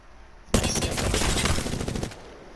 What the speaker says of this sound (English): Here's the automatic. It has, I guess, a little bit of recoil here.